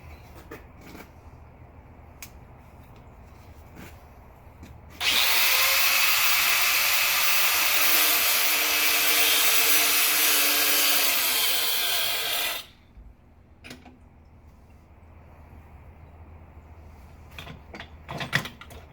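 A metal bar is cut to length for blacksmith tongs, with a loud steady cutting roar lasting about seven seconds between quiet stretches of faint workshop noise.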